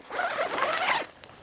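Zipper on the front door of a Cobizi 12x12 pop-up screen tent being pulled open in one steady rasping run lasting about a second, close and fairly loud, with no talking.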